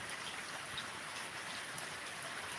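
Steady rain pours down through a morning in rural Punjab, a dense, even hiss of drops spread wide with no single splash standing out and no voices.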